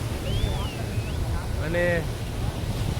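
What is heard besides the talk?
sea waves at Miramar beach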